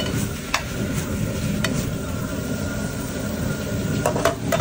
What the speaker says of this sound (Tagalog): Tapos lagay na natin yung pritong tokwa sa kanya.